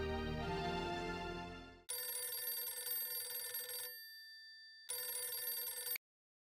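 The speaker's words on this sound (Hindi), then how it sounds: "मैं एक मिनट सोड़ी को फिर से फोन लगाता हूँ।" A telephone ringtone sounds during an outgoing call, playing two loud bursts of electronic ringing separated by a short silence, with a brief tone between them.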